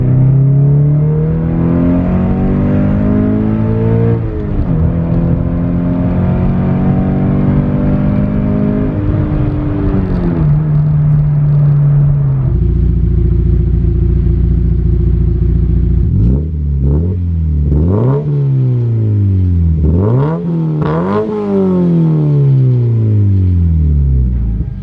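A Subaru BRZ / FT86 with a catted unequal-length header pulls hard, loud and close, with engine revs climbing through repeated rising sweeps, a steady drone midway, then sharp rev blips and further climbing pulls near the end.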